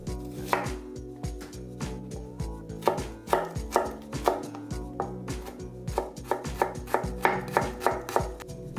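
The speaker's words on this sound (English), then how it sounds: "Finely cut the shallot." A knife finely chops a shallot on a board, a close series of crisp, rapid taps in uneven bursts, some quicker runs and brief pauses, with no talking.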